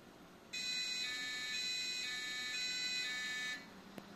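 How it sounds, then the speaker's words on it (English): An Abit AN8 Ultra nForce 4 motherboard sounds its built-in low CPU fan speed alarm, a steady high-pitched electronic beep tone lasting about three seconds, fairly loud and close, with no talk. "This one has a built-in alarm. So if you lower the CPU fan speed enough,"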